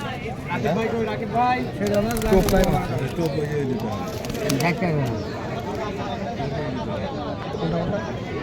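Pigeons cooing at a pigeon market in Rajshahi, Bangladesh, with layered coos and chatter over a busy crowd; people talk throughout.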